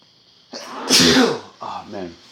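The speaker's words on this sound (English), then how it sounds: "Oh man, that was a really long pause between sneezes." A person who is sick sneezes, first a short intake, then one loud, close explosive sneeze, followed by a second smaller sneeze-like burst after a pause.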